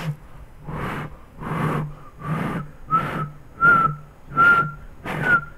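Breath blown across the mouth of a bottle, used as an improvised instrument in a music lesson, gives a breathy whistle-like tone in seven even blows, each a rushing puff with a pitched whistle that grows clearer toward the end, close and alone.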